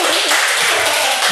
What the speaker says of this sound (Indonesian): Penonton bayaran boleh kasih tepuk tangannya untuk